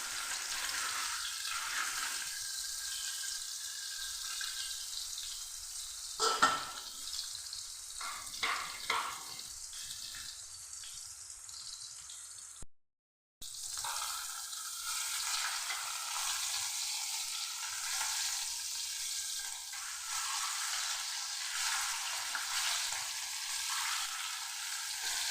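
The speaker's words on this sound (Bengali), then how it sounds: "এখানে গরম তেলের মধ্যে দিয়ে দিচ্ছি, একটু হালকা করে ভেজে নেব।" Hilsa fish and turmeric-and-salt coated egg frying lightly in hot oil give a steady close sizzle, with a few scraping stirs early on and a brief break midway.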